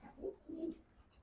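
Pigeons coo softly in a home loft, two low throaty coos in quick succession, faint and close with no talking.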